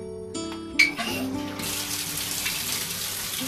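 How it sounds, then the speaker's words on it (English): Hot water gushing from a tap into a tub, used to soak a pack-and-play playpen for cleaning; after a few soft clunks, a steady, close hissing rush of running water fills the second half. "all I'm gonna start doing is fill this up with hot water."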